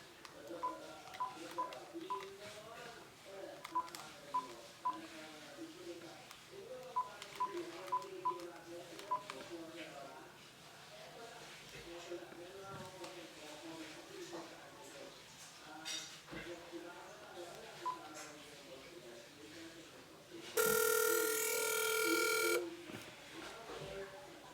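Telephone dialing tones beep in short clusters, then a loud steady ringback tone sounds near the end while calling a restaurant that cooks beef lengua; dishes clink faintly and a voice talks in the background.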